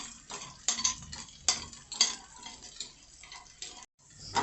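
Edible gum (dink) frying and puffing in a pan of fat on a low flame for winter dates laddoos, a steady crackling sizzle with brisk clinks and scraping from stirring, close and continuous, with a brief pause near the end.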